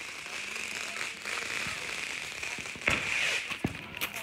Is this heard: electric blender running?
no